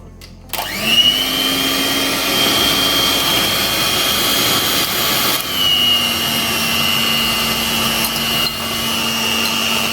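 An electric beater whips cream into ganache for a no-oven White Forest cake, starting abruptly with a high whirring whine that holds steady, dips briefly midway, then resumes at a constant pitch.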